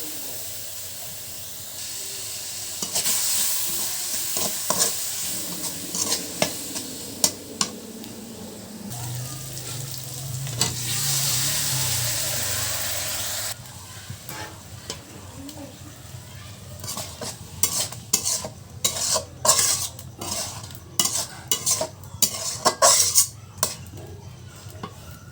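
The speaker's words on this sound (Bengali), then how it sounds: "দিয়ে দিচ্ছি পেঁয়াজ কুচি।" Chopped onion sizzles and hisses in hot oil in a pan alongside fish being cooked, a loud frying wash broken by frequent metal spoon scrapes and clinks as it is stirred.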